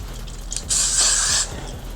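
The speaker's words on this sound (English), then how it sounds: "I'm gonna spray some Gatsby." A single burst of Gatsby hair spray hisses for about a second, sharp and close, with quiet handling noise before and after.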